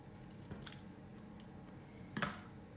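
Scissors cutting stamped cardstock at an angle, two quiet, crisp snips about a second and a half apart against faint background hum.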